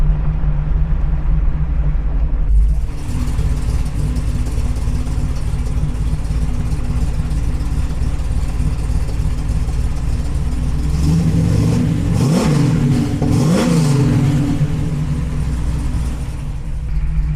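A big V8 engine in a 1971 Plymouth Cuda 440 rumbles steadily at idle, then revs up sharply a couple of times before settling back, loud and close.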